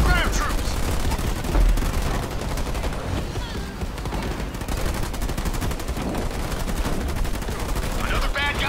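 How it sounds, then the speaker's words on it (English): Ground troops open fire during a Halo Wars 2 skirmish, with dense, continuous bursts of rapid gunfire rattling throughout amid battle noise and game effects. "Receiving fire from ground troops."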